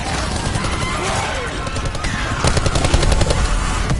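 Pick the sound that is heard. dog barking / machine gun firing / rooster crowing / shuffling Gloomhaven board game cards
machine gun firing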